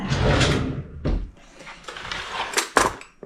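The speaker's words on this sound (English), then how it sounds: "Okay, let's put this back in the drawer." A silverware drawer in a kitchen being pushed shut, with clattering utensils and a solid thud followed by several smaller knocks and rattles, close and fairly loud.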